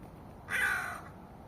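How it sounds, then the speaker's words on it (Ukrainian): One harsh crow caw rings out clearly, moderately loud and slightly distant, against quiet background hiss. "Дві ворони підбираються до Маші, щоб відібрати в неї корм"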